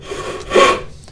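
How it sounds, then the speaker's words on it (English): Big crosscut hand saw being pushed into wood to start a cut, giving a single short, soft rasping stroke close by. "I'm using my big crosscut saw, trying to push it in."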